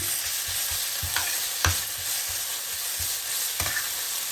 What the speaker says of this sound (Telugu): ఒక స్పూన్ అల్లం వెల్లుల్లి పేస్ట్ వేసుకుని బాగా మిక్స్ చేసుకోవాలి